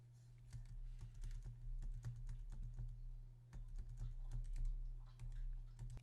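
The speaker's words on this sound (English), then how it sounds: "I'm going to use the square bracket keys to shrink the brush." Rapid, irregular clicks of square bracket keys pressed on a computer keyboard while resizing a brush in Affinity Photo, close and crisp over a steady low electrical hum.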